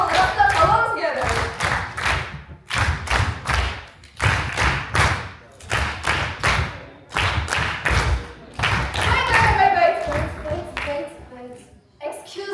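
Audience at a talk event clapping along in a steady rhythm of thumping claps, with brief pauses between bursts and some melodic voices or music over the top.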